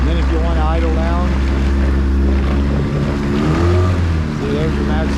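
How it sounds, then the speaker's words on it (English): Outboard engine on a Bayrunner T-top boat during a water test, a steady loud drone at high throttle with shifting harmonic whine and a low rumble, close to the microphone. "see there's your max throttle, then you can go to idle."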